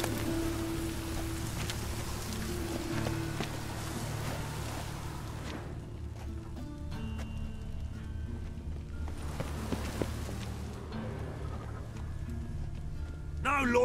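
Rain falling in a town in The Witcher 3 video game, a steady soft patter under game voices, with occasional clip-clopping footfalls.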